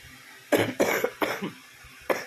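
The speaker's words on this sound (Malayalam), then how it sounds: "നല്ല ചുമയുണ്ട്," Four harsh, close coughs in quick succession from a person with a lingering cough, loud against a quiet background.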